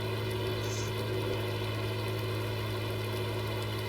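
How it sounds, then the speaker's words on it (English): A farm tractor drives slowly out of a boggy harvest field, its engine giving a steady, loud, continuous drone with a low rumble throughout. "This tractor is slowly going out."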